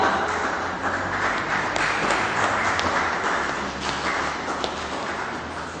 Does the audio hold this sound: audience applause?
yes